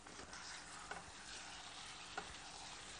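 Chicken pieces rubbed with salt and turmeric frying over high heat in well-browned onions: a faint, continuous sizzle with a couple of soft stirring taps and no voices.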